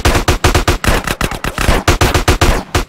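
Loud, close automatic gunfire in GTA San Andreas, a rapid burst of about twenty evenly spaced shots with brief pauses, standing alone without talk.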